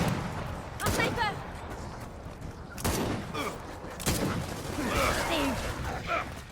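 Sniper and weapon fire in the video game Gears of War 4, several sharp gunshot bursts spread across the stretch with game effects and a busy noisy mix in between.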